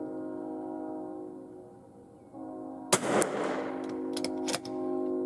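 Rifle shots fired outdoors while testing a scope at 50 yards, one sharp loud crack followed by a few fainter reports, over a steady humming background drone.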